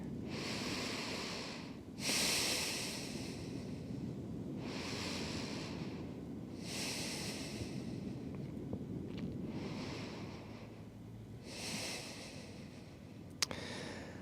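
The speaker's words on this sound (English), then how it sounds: "taking slow breaths in and out here" Slow, deep breaths drawn in and out during a yoga child's pose, kneeling with the forehead toward the floor, each long airy inhale and exhale rising and falling in an even rhythm, close and soft with no talking.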